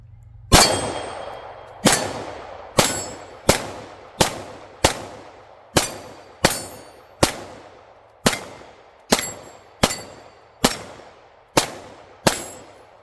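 9mm pistol firing Magtech zinc-plated steel case ammo at steel targets, about fifteen sharp, loud shots in a steady rhythm, each with a ringing clang, with no talking.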